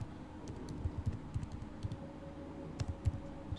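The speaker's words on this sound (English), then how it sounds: "And then you get to write your message as well." Fingers type an email message on a computer keyboard, soft uneven bursts of key taps close by over a low steady room hum, with no one talking.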